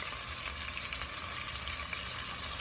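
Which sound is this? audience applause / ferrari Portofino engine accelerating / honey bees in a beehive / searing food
searing food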